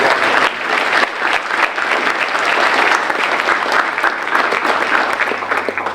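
An audience at a high school senior awards ceremony applauds the last group of honors graduates, with loud, continuous clapping sustained evenly throughout, dense and close with no voices on top.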